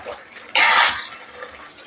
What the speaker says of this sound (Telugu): చింతపండు నేను ఆల్రెడీ నానబెట్టేసుకున్నానండి, బాగా నానింది. ఇప్పుడు పులుసు వేసేస్తున్నాను.